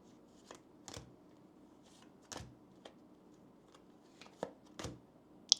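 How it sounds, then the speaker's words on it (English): Soft, quiet riffling and snapping of oracle cards being shuffled and pulled from the deck during a tarot reading, in short irregular bursts with pauses between them. "So I'm going to go ahead and pull some oracle cards for you"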